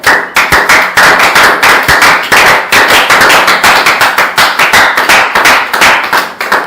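A church congregation applauds in a service, with loud, dense, rapid clapping from many hands that continues without a break and no voices heard.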